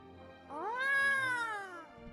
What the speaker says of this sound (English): Ooh, a kitty.